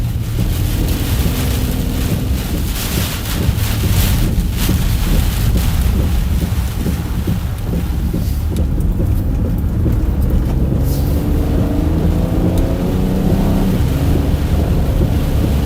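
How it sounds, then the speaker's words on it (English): A wall of heavy rain during a tornado storm near Purcell, Oklahoma, a loud constant roar mixed with buffeting wind noise on the microphone, with no talking. "Hopefully this wall of rain freaking clears out."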